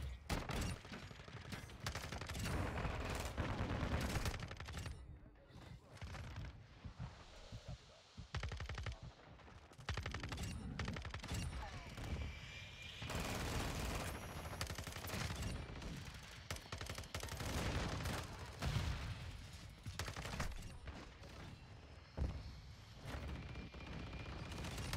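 Rapid, sustained automatic gunfire from an FSS Hurricane submachine gun in Modern Warfare 2 on the Shipment map, loud and nearly continuous bursts with brief gaps, mixed with other game noise.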